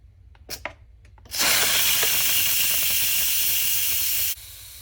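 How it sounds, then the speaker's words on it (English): A small 7-in-1 mini electric pressure cooker vents steam in a loud, steady hiss that bursts on and holds for about three seconds before cutting off abruptly, preceded by a few faint clicks. "now we're going to release the rest of the pressure"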